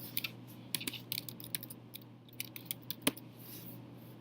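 Typing on a computer keyboard, with quiet, irregular clicking keystrokes close by in a still room and no talking.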